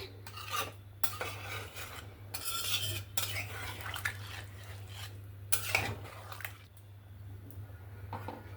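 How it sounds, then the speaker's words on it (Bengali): A spoon stirs chicken curry with hot water in a cooking pot, scraping and clinking against the metal in irregular strokes, close and fairly quiet over a steady low hum. "জল দিয়ে একটু নাড়াচাড়া করে নিচ্ছি।"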